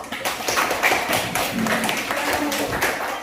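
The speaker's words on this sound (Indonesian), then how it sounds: "Kita beri aplaus" Classroom applause for a student group after a discussion presentation: a short burst of many hands clapping at moderate loudness, with some voices in the room mixed in.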